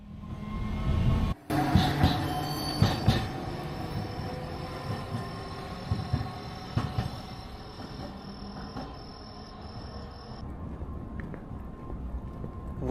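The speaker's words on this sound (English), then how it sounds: "We are hopping on the streetcar to head to our final stop." Riding a streetcar through Nagasaki, Japan in the evening: a steady low rolling rumble with a bright sustained electrical whine, a few clunks and bumps along the way, and faint background voices.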